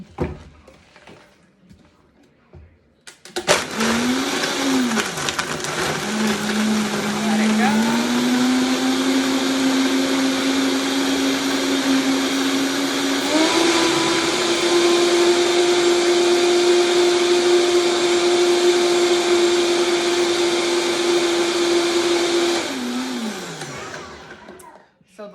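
A countertop blender whirs loudly while blending a shake, starting abruptly, holding a steady high whine that rises in pitch partway through, then winding down; a voice talks over it briefly.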